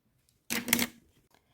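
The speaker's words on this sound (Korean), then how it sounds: "라이터로 마무리하겠습니다." A lighter clicks and flares once to seal macrame bracelet cord ends, a short close burst of about half a second in an otherwise quiet moment.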